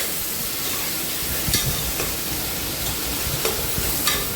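Chopped tomatoes and onions sauté in a hot pan for an ash gourd and moong dal kootu, a steady close sizzle broken by a few scraping stirs of the spatula.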